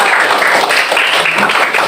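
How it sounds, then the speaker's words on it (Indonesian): Classroom applause from students after singing Tanah Airku at a school teaching assessment, a dense steady wash of clapping that carries evenly through the whole moment with no voices standing out. "beri tepuk tangan untuk kita semua"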